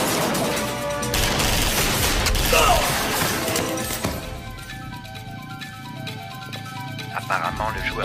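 A burst of crashing gunfire and mechanical clatter from an action film fills the first half, then fades into tense background music and lingering effects.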